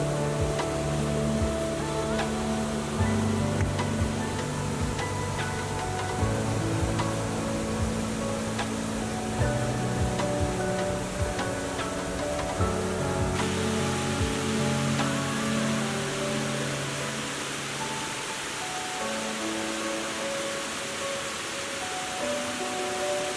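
Waterfalls along a wooded trail at Ricketts Glen State Park, a steady broadband rush of falling water that stays fairly constant throughout, with some faint lower rumbling and no talk.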